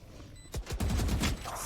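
Gunfire in the Valorant match between Immortals and Luminosity at VCT Masters 1 NA: a rapid burst of several sharp shots over a low background hum.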